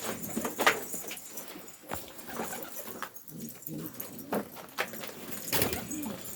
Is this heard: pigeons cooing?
yes